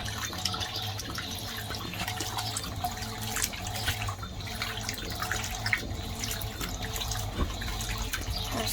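A Fisher and Paykel MW511 washing machine runs a wash, giving a continuous watery sloshing and swishing with a steady low hum, with no speech.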